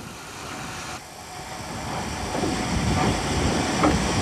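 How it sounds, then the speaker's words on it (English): A locomotive rattles across a wetland embankment on the Richmond Vale Railway in 1987, a steady rumbling, clattering roar that swells gradually as it draws nearer, with no voices. "As the loco rattled across the wetland embankment for the final time"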